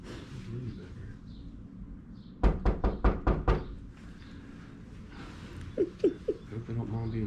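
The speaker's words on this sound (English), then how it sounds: "Maybe we should knock on that door." Five quick, firm knocks rap on a wooden door at a farm, close and clear, in an even rhythm, with quiet background sounds and faint chirps of chicks afterward.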